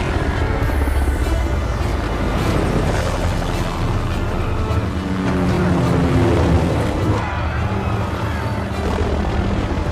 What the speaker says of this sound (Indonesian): Terjadilah perkelahian di atas helikopter.